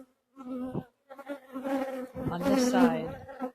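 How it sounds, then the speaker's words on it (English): Honey bees buzzing close by at an opened hive, with the brood box lifted, their wavering buzz rising and swelling over a few seconds. "There's a lot of bees on the bottom."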